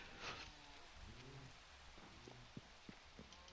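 Rain falls in the Minecraft video game as a faint, steady patter, with a few scattered drips and pops over the continuous wash.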